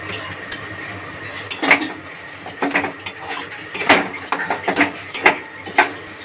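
A spatula stirs a banana flower filling in a pan, clinking and scraping against the metal in irregular, close bursts. A faint sizzle sits beneath the strokes.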